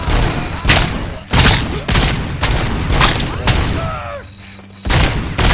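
Bursts of heavy gunfire in the Robocop Rogue City video game, several loud volleys separated by short gaps, mixed with thuds and game effects, with a voice briefly speaking in between.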